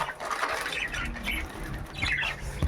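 African lovebirds in a large cage give harsh, repeated squawks and chirps with bursts of wing flapping, close and fairly loud, with no voices.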